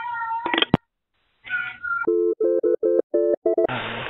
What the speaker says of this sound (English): Cat wants to talk to you.